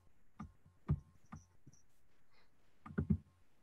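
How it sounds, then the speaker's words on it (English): A few scattered clicks and taps, like keys struck on a keyboard, faint and irregular with short pauses between bursts. "Somebody's typing away that we're hearing."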